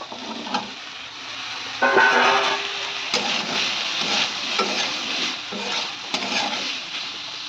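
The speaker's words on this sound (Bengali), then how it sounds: "এইবারে ধুয়ে বেছে রাখা লতিগুলোকে দিয়ে দেবো।" Washed taro stolons stir-fry in a pan of ground spice paste, a steady loud sizzle with repeated spatula scrapes and clinks, no voices heard.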